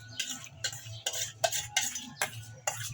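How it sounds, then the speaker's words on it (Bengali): Carrot paste being stirred into boiling milk in a metal pot for a Bengali pithe dish; a spoon scrapes and clinks against the pan in about seven distinct strokes, evenly paced, near and clear with no talk. "এবার আমি গাজরের পেস্টটা দিয়ে দেবো এর মধ্যে।"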